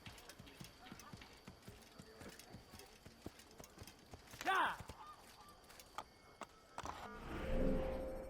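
A horse in the game Assassin's Creed walks slowly, its hooves giving soft, evenly spaced clip-clops under scattered ambient game sounds, with a brief louder tonal call midway and a rising rumble near the end.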